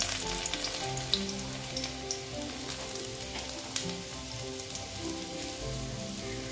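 Dried red chillies and chopped garlic hitting hot oil give a fairly soft, continuous crackling sizzle with fine popping spatters throughout, with no voices.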